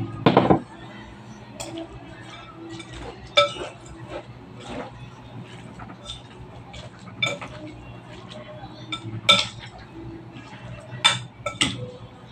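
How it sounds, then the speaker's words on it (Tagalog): Buko and peanut being stirred together in a bowl, a spoon clinking and scraping against the dish in scattered bursts, close and fairly light, with a quiet voice now and then. "Mixing natin ito mabuti."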